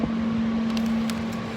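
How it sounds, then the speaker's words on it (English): A jet dryer passes at a race track with a steady mechanical roar and a sustained whine, fairly loud and constant, fading slightly toward the end, with no talk. "jet dryer going by"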